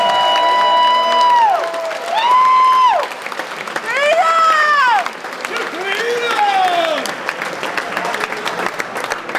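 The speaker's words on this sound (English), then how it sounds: "let's have a round of applause for those fighting for freedom in the belly of the state" A rally crowd at Liberty Fest in New York City cheers and applauds, with rising and falling whoops and shouted cheers over a dense, continuous bed of clapping that stays loud throughout.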